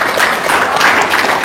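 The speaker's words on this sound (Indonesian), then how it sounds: "tepuk tangan dong" Loud, dense applause from a gathered crowd fills the moment as a continuous wash of many hands clapping together.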